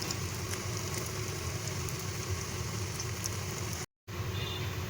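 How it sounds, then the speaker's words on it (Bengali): Dhoka, ready-made lentil cakes, frying one by one in hot oil, giving a steady, close, broadband sizzle that runs throughout with only a brief cut near the end. "এখন ওই তেলের মধ্যে আমি এক এক করে এই ধোকাগুলোকে ফ্রাই করে নিব।"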